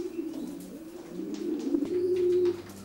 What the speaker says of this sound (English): Beautiful pigeon.